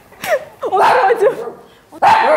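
A dog barks and yips in a few sharp bursts, with a short quieter gap before a final loud bark close by.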